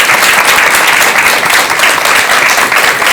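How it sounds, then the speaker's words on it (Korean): A Korean studio audience gives a Buddhist monk speaker a loud round of applause after his talk on Buddhist ritual and music, dense and steady throughout. "법현 스님께 큰 박수 한번 부탁드리겠습니다"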